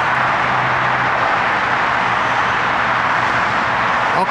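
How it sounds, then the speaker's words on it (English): Dense traffic on the LBJ Freeway (I-635) in Dallas, Texas, makes a steady, continuous roar, a loud and unbroken wash of tire and engine noise with no speech. "The noise you hear behind me is the traffic."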